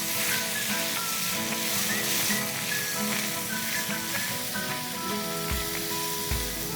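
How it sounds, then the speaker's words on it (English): Marinated lamb chops, seasoned with degi chili and salt, sizzle loudly in hot oil with cardamom, a dense close crackle and hiss with occasional stirring clunks and no voices. "So I am adding my marinated lamb chops."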